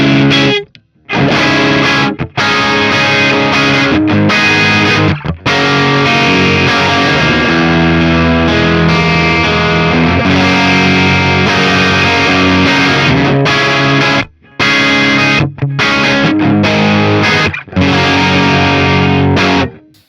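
Saturated, driven electric guitar through a BT MT15 amplifier plays loud chords and riffs with a few short gaps between phrases, dense and gritty throughout.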